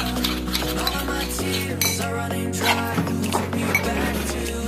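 A spoon stirs a yogurt and ginger-garlic paste marinade for tandoori fish in a bowl, giving a steady wet squelching with light clinks against the side over a constant low hum.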